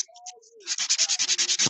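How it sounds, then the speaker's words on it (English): Rapid rhythmic rasping of a nail file on fingernails as they are evened out, with about ten quick regular strokes close up. Faint scattered tones come first, then the strokes. "Might as well just get all the filing before you pick up the drill out of the way."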